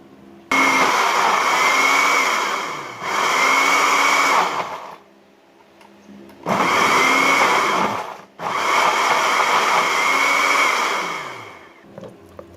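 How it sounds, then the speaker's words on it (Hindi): A kitchen blender purees tomatoes with a spoonful of oil in four loud whirring runs: two back-to-back bursts, a quiet pause, then two more. Each run starts abruptly and winds down at the end. "अब हम इन टमाटोज़ को ब्लेंडर में डाल के ब्लेंड कर लेते हैं।"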